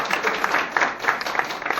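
Audience applause at a Hindi motivational seminar, a busy patter of many hands clapping at a fairly steady level with small surges.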